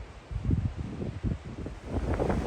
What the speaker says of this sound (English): It's breezy on this side.